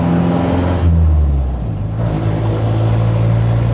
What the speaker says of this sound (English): Put it in third gear and give her some gas